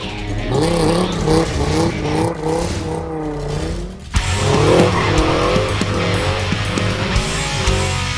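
A Toyota Supra skids loudly, its tires squealing in wavering, drawn-out screeches over a roaring engine, with a brief dip in the middle before the noise surges again.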